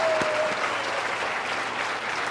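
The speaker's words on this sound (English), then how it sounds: "big round of applause" Audience applause at a motivational seminar, dense and sustained clapping from a large crowd, steady and loud throughout the short span.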